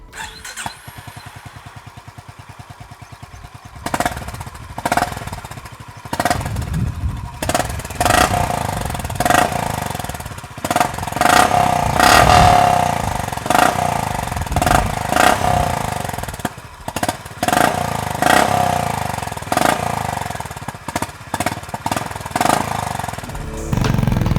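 A Honda CB350RS motorcycle engine fires up and settles into a throbbing exhaust note, blipped repeatedly with sharp revs and chopping pops, close and loud.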